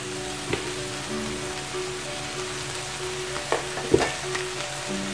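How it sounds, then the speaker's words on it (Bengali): Carrot halwa with milk powder being stirred in a pan, a steady soft sizzle broken by a few scraping spoon strokes, close and without talk. "গুঁড়ো দুধটা দিয়ে আর একটু নাড়াচাড়া করে নিতে হবে"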